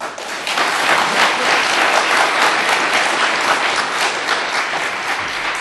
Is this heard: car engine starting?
no